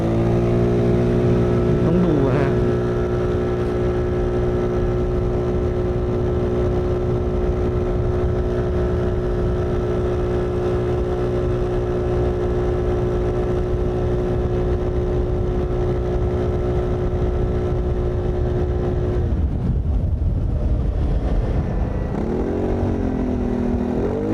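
A 2021 Keeway GT270 scooter's engine hums steadily while being ridden, holding a constant drone with sustained harmonics and wind rush. Near the end it dips and surges as the throttle changes.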